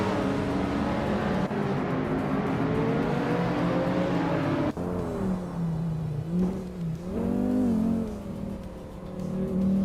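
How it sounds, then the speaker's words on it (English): Simulated engine of a 2008 Subaru Impreza WRX STI in a racing video game, a loud steady drone that rises and falls with gear shifts and throttle changes throughout, with no talking. "Tangaduki DTV is driving a 2008 Subaru Impreza WRX STI."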